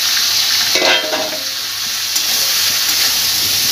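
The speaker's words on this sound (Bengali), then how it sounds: "এই তেলের মধ্যেই আমি এঁচোড়টা দিয়ে ভেজে নেব।" Boiled jackfruit pieces frying in hot oil for a Bengali jackfruit-and-prawn dish, a loud steady sizzle close up, with a burst of crackling and a stirring scrape near the start.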